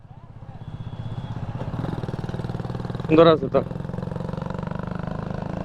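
A modified Suzuki Intruder motorcycle idles nearby with a steady, even, low throb, joined midway by a man's brief spoken remark.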